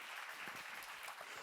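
A church congregation claps during a Korean sermon, a brief, fairly soft patter of applause from a room of listeners, with no clear speech on top.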